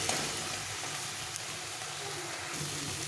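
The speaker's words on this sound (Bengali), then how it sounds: "এটা দিয়ে ভালো করে মশলাটাকে কষিয়ে নিতে হবে" Spice paste of turmeric, ginger-cumin paste and slit green chilies frying in oil for a thin pabda fish curry, giving a steady, close, even sizzle throughout.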